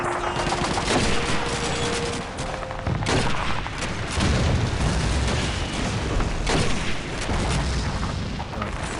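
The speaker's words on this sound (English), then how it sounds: "Enemy shooting at you!" Continuous battle gunfire and booms from Call of Duty 2's Pointe du Hoc D-Day assault, dense and loud throughout with rifle and machine-gun bursts layered over distant explosions.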